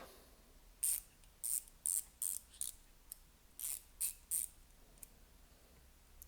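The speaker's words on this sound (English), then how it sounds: "Next I have a small ratchet" A small hand ratchet from a handyman's carry kit gives about ten sharp, close clicking bursts in an uneven rhythm, with quiet pauses between them.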